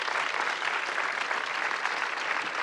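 Steady audience applause from a crowd at a Los Angeles panel Q&A, dense and continuous clapping throughout with no talking.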